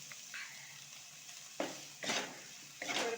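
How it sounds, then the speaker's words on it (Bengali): Chopped onion with a little salt fries in a pan: a soft, quiet sizzle broken by a few scraping strokes of a spatula stirring, close with no voices. "এবারে পেঁয়াজটা আমি খুব ভালো করে ভেজে নেব।"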